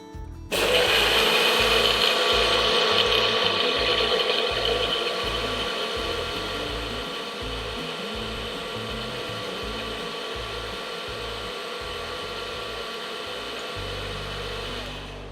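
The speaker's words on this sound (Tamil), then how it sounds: "மிக்ஸியில் இப்போது அடிச்சிடலாம்." A mixer grinder whirs loudly and steadily as it blends milk, sugar, ice water and Oreo biscuits into a milkshake, the motor's roar settling slightly lower after the first few seconds with no talking.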